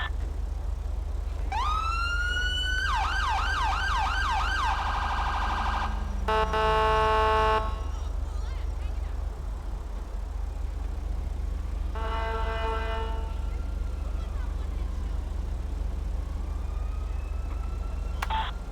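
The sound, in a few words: police car siren in a video game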